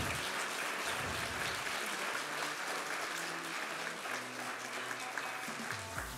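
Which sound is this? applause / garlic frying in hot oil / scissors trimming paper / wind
applause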